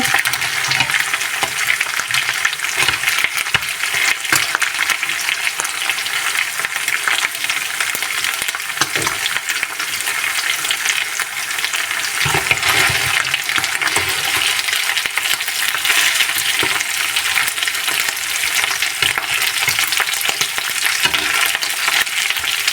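Lamb chops fry in hot oil with a loud, steady sizzle that carries unbroken through the whole stretch, with no voices over it.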